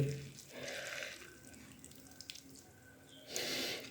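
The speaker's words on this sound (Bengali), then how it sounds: "ভালো করে সমস্ত কপিটাকে আমি এইভাবে চিপড়ে নিচ্ছি হাতে করে" Shredded cabbage squeezed by hand to press the water out, heard as soft, close trickles and drips in short bursts, quiet, with no talking.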